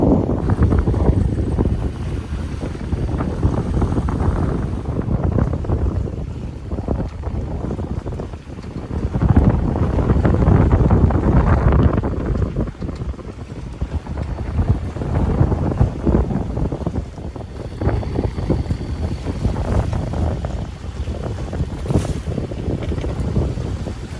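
A sailboat motoring toward Hakatea Bay on Nuku Hiva in the Marquesas after furling the genoa, with steep hillsides nearby; a steady engine and hull rumble under loud, gusting wind buffeting the microphone throughout, no talking.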